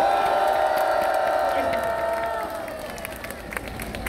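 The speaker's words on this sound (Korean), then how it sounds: "우리 모두 서로에게 큰 박수 한번." A large crowd of around 800 people at an outdoor street rally in Gwanghwamun applauding and cheering, a loud, dense roar of voices and clapping that gradually fades to a lower murmur with scattered claps.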